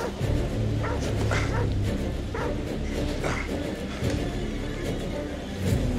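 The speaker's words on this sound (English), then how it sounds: "Oh, there's a dog." Dog in the video game The Devil In Me, a few short barks and yips over a busy game background, moderately close.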